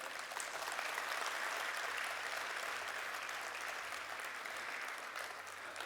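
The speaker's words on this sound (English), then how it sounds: "let us welcome Shri Madhukar Parekh with a huge round of applause." An audience at an international management conclave gives sustained, dense applause for a welcomed guest, a steady wash of many hands clapping throughout.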